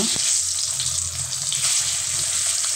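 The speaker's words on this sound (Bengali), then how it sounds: "এই যে ডিম ভেজে নিচ্ছি।" An egg fries in hot oil in a wok, giving a continuous bright, hissing sizzle heard up close and alone for a few seconds.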